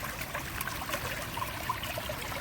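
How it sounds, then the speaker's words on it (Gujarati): Water gushing and splashing out of a borewell overflowing after heavy monsoon rain, in a steady, continuous rush, close by with no talking. "ટૂંકમાં બોરમાંથી પાણી આવે"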